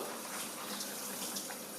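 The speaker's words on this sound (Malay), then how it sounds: "Kita cuci pakai air bersih." Running water splashes steadily as dried anchovies are washed in clean water, a close continuous gush with no talk.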